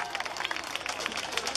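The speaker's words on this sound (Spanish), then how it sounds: "fuerte ese aplauso para" A street carnival crowd applauds a departing comparsa troupe at an outdoor corso parade, with a crackling burst of many hands clapping amid crowd noise and a voice over a loudspeaker.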